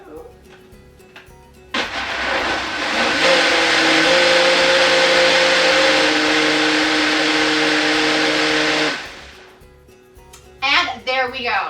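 A blender pulses tomato-free ketchup ingredients into a smooth purée, a loud steady whir running about seven seconds before cutting off, with faint talk before and a voice just after.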